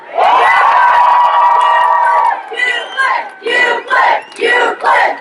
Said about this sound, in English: can we have a cheer for the African math geek, Euclid?